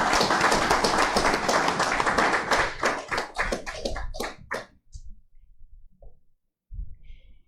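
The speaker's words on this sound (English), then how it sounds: "I invite each and every one of us to give the facilitators a special round of applause." An audience gives a round of applause for the facilitators at a closing ceremony of an agricultural agri-business training programme, with loud dense clapping that thins into scattered claps and stops before a brief pause.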